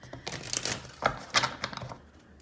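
Quick papery riffles and taps as a deck of tarot cards is shuffled, a few short bursts close up, with no talking.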